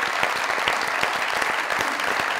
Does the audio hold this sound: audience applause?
yes